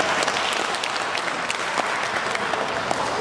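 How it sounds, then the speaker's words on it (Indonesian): Steady applause from an audience at a meeting of the council of professors of Indonesian state universities, dense clapping that stays at an even level throughout, with no voices over it. "kita layak memberi tepuk tangan buat kita semua"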